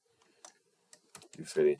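Computer keyboard typing in a few quick separate key taps, close and fairly quiet, ending as a voice starts speaking over the last keystrokes.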